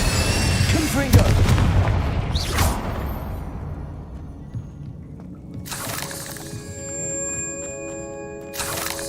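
Confringo explosive spells blast in the Hogwarts Legacy video game, with booming impacts and whooshes early on, then a fading rumble and a brief ringing magical burst, loud and up close.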